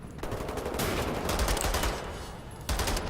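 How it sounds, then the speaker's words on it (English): Sustained automatic pistol fire in Wolfenstein: The New Order, a loud, continuous rattle of rapid shots lasting several seconds, then a fresh burst near the end. "Oh Jesus, it's like an automatic pistol too."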